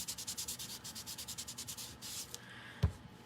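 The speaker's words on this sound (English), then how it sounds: "I'm actually going to take this little tool and I'm just going to rub." Rapid, steady rubbing strokes of a small craft burnishing tool pressed over paper on a magnetic slider card, close and fairly quiet, ending with a single sharp tap.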